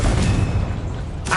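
A Confringo fire spell exploding in the video game Hogwarts Legacy, a loud, deep boom with a rumbling tail that fades out quickly, followed by a short burst of noise at the end.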